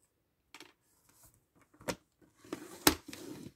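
Vellum paper being creased and folded by hand into a pouch: sparse, close rustles and soft crinkles, with a sharp crisp crackle near the end as the fold is pressed down, heard alone without talk.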